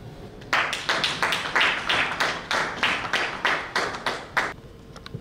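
An audience claps for a popular music artist introduced on stage at an event in Benin; about a dozen crisp, evenly paced claps ring out close and loud after a brief quiet start, then break off.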